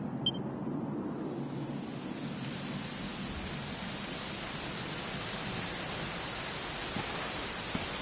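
Steady, even rain hiss in a Dragon Quest XI scene, a constant broadband downpour that runs unbroken and fairly soft throughout, with no voices.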